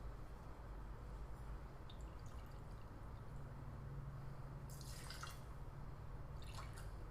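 Two ounces of Woodford Reserve bourbon poured for a cocktail, heard as a faint, brief trickle of liquid against a steady low background hum, with a couple of short splashy bursts near the end.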